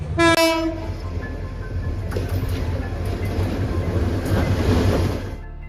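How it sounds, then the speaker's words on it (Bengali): A train locomotive pulls into Bhairab Bazar station for an engine change, opening with a loud horn blast followed by a heavy rumbling engine and clattering wheels rolling close by. "এই যে ইঞ্জিন আসতেছে"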